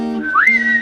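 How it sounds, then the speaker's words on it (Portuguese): A person whistles a single rising tone that climbs and then holds steady, close and clear, with a low steady hum beneath it. "Tenta assoviar."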